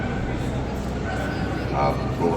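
Dog yips and bow-wow barks come in short bursts over a steady noisy background at a hunting fair in Zagreb, with people talking close by throughout.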